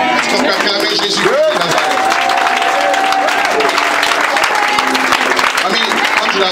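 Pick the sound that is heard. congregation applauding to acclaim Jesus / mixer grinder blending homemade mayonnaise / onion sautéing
congregation applauding to acclaim Jesus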